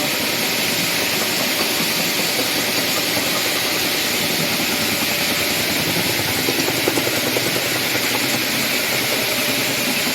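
Stone polishing machine at the WEZiHO stone mill in Nagaland, a loud, unbroken grinding roar that holds steady throughout with no voices.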